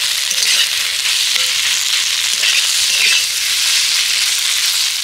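A filling with tomato sauce being stirred in a frying pan, a loud, even, continuous sizzle with faint scraping, very close and without any talk.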